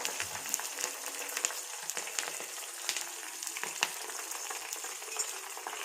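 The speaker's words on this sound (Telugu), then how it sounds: "ఇవంతా మంచిగా వేగిపోవాలి." Curry leaves and hibiscus leaves fry in oil for homemade hair oil, a continuous crackling sizzle with occasional stirring scrapes, steady and fairly close, no voices.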